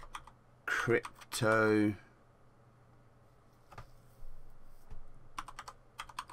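Someone types a folder name on a computer keyboard, a couple of short bursts of key clicks, close and fairly faint, after someone speaks a word.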